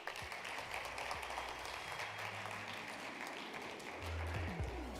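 Audience applause at a TechXpand event, a steady spread of clapping from the room that swells slightly toward the end, with faint voices underneath.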